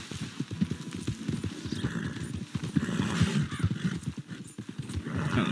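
Rhythmic clip-clop of horse hooves on hard ground in Red Dead Redemption 2, steady and fairly close, with a brief whinny and some soft background noise.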